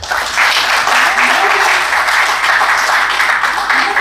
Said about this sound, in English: I think we need a clap for this